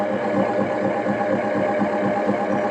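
A wood lathe spins a segmented strip platter at 250 RPM, giving a steady, close motor hum with a faint rhythmic whir that holds even throughout, with no talk.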